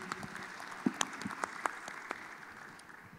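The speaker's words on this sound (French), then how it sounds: "Merci, on applaudit" Sparse, light applause from a conference audience at an opening plenary session in Marrakech, a few scattered claps fading out within a couple of seconds, quiet and somewhat distant.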